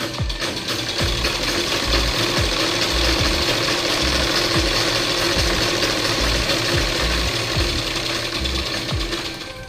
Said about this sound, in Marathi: व्यवस्थित थोडं थोडं करून टिप मारून घ्यायची